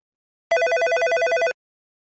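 A telephone ringback tone on an outgoing call: one loud, close burst of rapidly pulsing electronic ringing lasting about a second, set between silences.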